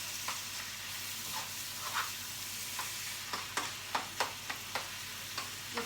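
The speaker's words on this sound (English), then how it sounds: "so that is all that to my onions. I'll just let that saute a little bit" Onions sauté in a pan for butternut squash soup, a soft steady sizzle with faint scraping stirs and a few light clicks of a utensil against the pan.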